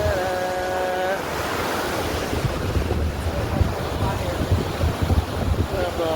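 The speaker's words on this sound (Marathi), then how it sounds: "पाण्याचा प्रवाह नदी भीमा नदी शो जबरदस्त पाणी" Water of the Bhima river pouring over a dam, a loud steady rushing roar with gusty wind buffeting the microphone and a brief tonal sound at the start.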